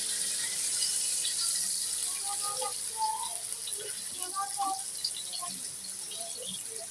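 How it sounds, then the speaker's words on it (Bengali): Water pours in a faint, steady trickle into a pot of marinated beef frying in hot oil, with soft bubbling and splashing throughout. "অল্প করে পানি দিয়ে দেব।"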